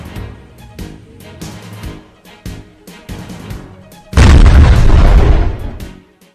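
Artillery and gunfire exchange across the border in the Tangdhar sector of Kupwara, Kashmir, during a ceasefire violation. A series of regular thudding shots leads into a loud, roaring blast that lasts over a second before fading.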